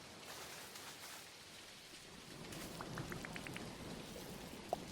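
Rain falls steadily in the video game Dinkum, a soft broadband patter of drops at moderate level, with a short run of light plucked or bubbly tones rising near the end and a small tap at the close.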